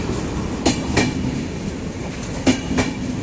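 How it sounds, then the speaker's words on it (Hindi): A moving train rolls past with a continuous broadband rumble, punctuated by sharp wheel-on-rail clicks in pairs, steady and fairly close, with no talking. "चल रही ट्रेन।"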